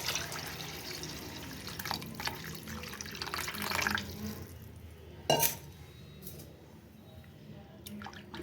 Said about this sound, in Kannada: ಈಗ ಅದನ್ನ ನಾನು ಅದ್ರ ಎರಡು ಪಟ್ಟಷ್ಟು ನಾನು ನೀರು ತಗೊಂತಿದ್ದೀನಿ ನೀರು ಹಾಕ್ತೀನಿ